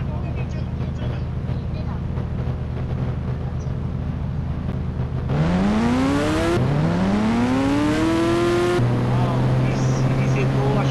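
A new motorbike runs with a steady idle-like drone, then pulls away in rising revs with two quick gear changes, close and loud, while a rider talks over it.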